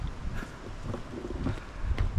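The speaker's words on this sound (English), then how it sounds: "Oh, a bit windy." Steady wind gusting over a microphone on a gravel lakeside hiking path, a continuous rumbling roar with no voices.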